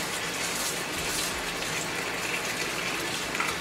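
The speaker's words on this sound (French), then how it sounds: "reste à rincer ça pour enlever un peu de sel" Salted relish vegetables rinsed under running water, a steady broadband gush from a tap pouring continuously and fairly close, with no talking.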